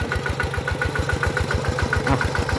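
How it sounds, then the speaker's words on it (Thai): A Kubota RT100 walking tractor's small engine idles close by, a loud, fast, steady chugging of regular thumps with no voices. "รถไถเดินตามคูโบต้า อาร์ทีร้อยครับ"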